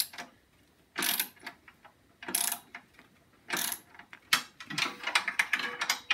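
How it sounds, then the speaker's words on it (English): A wrench turns a nut on the steering rack of a Snapper mower, giving a series of close, sharp ratcheting clicks in short bursts separated by brief pauses. "It's going to turn until the wrench falls on the end of the nut, because it won't line up."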